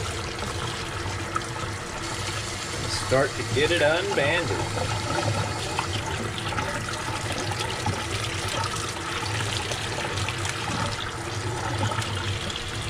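Warm tap water runs steadily into a sink while a rainbow spiral tie-dye XL tee is rinsed, a constant rushing stream with a voice talking over it.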